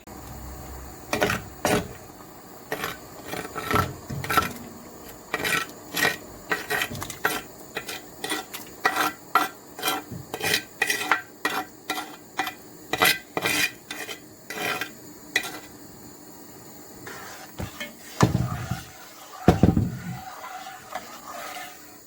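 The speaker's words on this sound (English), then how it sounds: "It's all done now, so I'm gonna tip it inside the saucepan." Hand-ground ingredients for Ghanaian light soup are tipped and scraped from a bowl into a saucepan, with a close run of sharp metallic clinks and scrapes and a couple of heavier knocks toward the end, no voices.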